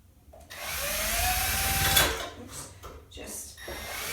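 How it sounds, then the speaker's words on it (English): A power drill with a regular bit bores a hole into wood on a porch art project, whining steadily for about a second and a half before cutting off, followed by a few short knocks. "Just drill that hole,"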